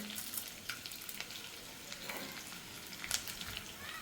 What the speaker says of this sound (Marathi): बारीक गॅसवर आपल्याला डिंक तळून घ्यायचं आहे, म्हणजे छान तो फुलतो